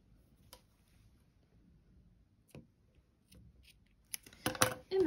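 Scissors snip through grey crochet yarn in a quiet room. A few soft clicks and a crisp cut come close together near the end, preceded by faint handling sounds.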